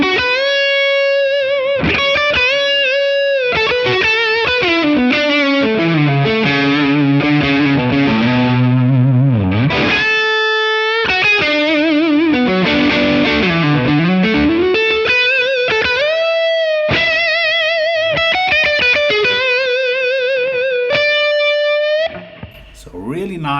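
Distorted Keipro Fabian Ratsak signature electric guitar on the neck pickup with Alnico 4 magnets, playing sustained riffs and bends with warm, clear tone, loud and continuous alone throughout.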